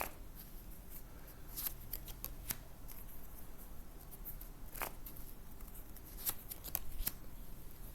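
A tarot card is drawn from the deck, with quiet papery shuffling and sliding of cards in short irregular swipes, close and soft.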